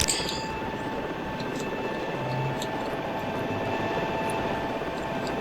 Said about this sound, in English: The nice thing about hover mode is that it'll keep the helicopter stable while you focus on stuff like this